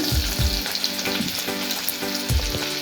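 Mustard seeds, cumin, asafoetida and garlic drop into hot oil for a green tomato chutney, crackling and sizzling loudly up close with a few sharp spatters and low thuds of stirring.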